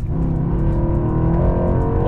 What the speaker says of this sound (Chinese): 它有个很有趣的功能，那就是 launch controller， 所谓的弹射起步。